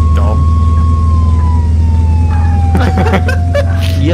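Emergency siren from an ambulance in the Flashing Lights game, a steady wailing tone that slowly drifts lower over a constant engine rumble, with voices chattering over the last part.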